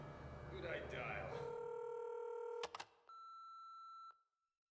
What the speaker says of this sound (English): he just butt dialed somebody in that scene